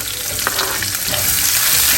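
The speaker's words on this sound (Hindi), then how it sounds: "और अब मैं इसमें डाल रही हूँ प्याज और उसको करेंगे हल्का सा फ्राई।" Onions fry in hot oil with cumin and red chilies for dhaba-style tadka dal, a loud dense crackling sizzle up close that builds steadily, with no voices.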